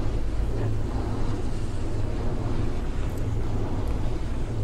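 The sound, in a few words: loud fans blowing air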